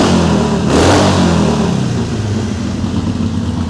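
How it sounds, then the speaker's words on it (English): A cold Harley-Davidson Iron 883 with Vance & Hines exhaust revs loudly and close, surging briefly then settling into a rough, throaty idle. "it's revving a cold bike"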